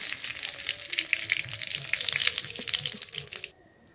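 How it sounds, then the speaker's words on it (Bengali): Cumin seeds and two dried red chillies tempering in hot mustard oil in a kadai, a loud, dense crackling sizzle that cuts off abruptly near the end. "কড়াইতে সর্ষের তেল, ফোড়নে জিরে"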